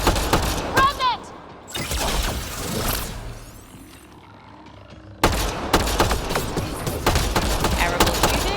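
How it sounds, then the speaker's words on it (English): Video game gunfire from a sci-fi shooter, Mass Effect: Andromeda: loud bursts of rapid shots and booming impacts, a lull in the middle, then dense firing resumes, with voices talking over parts of the action. "Terrible shooting."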